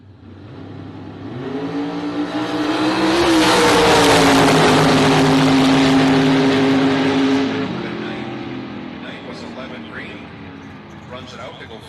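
Camaro and a full-size pickup launching side by side at a bracket drag race, engines roaring up loud and sustained, then fading as they run out down the strip, with an announcer talking over them.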